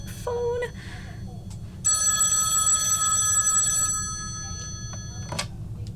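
An old landline telephone bell rings in bursts on a stage during a school drama performance, loud and close, with a faint voice murmuring in between.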